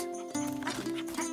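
Horse sounds with a sustained tonal whinny-like cry and some soft clopping, close by, with faint voices in the background.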